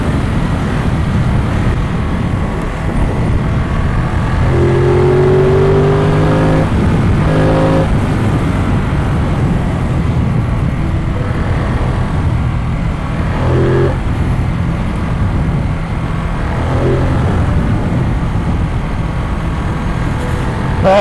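A motorbike rides along an open road near Burragorang Lookout in Australia, its steady engine drone and wind rush loud and continuous, with a slight rise in engine pitch partway through.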